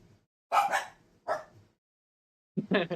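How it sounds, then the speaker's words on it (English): A pet dog barks indoors at a cow image on a television screensaver, a couple of close, sharp barks with a pause, then a longer yapping burst. "She's barking at the cow thing on the TV."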